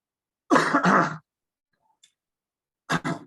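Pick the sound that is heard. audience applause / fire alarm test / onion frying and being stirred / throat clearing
throat clearing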